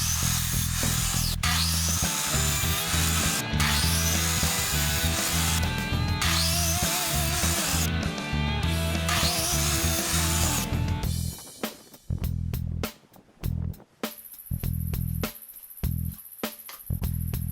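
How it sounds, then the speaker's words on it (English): A miter saw fitted with a stop block cuts the four wooden sides of a box for a Lego travel case, with loud, repeated cutting passes over about eleven seconds followed by quieter, sparse handling knocks. "I set up a stop block on my miter saw and used it to cut the 4 sides of the box."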